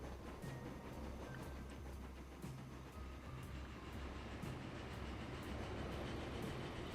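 Trains roll along in the Transport Fever 2 simulation with a steady, faint rumble and regular clickety-clack beats from the wheels passing rail joints.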